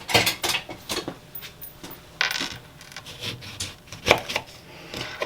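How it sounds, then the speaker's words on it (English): A knife cutting a lemon in half on a board, with a series of sharp knocks and clinks of metal against the surface, irregular and close, plus a few louder taps. "I'm going to take the lemon. And I'm going to cut it in half."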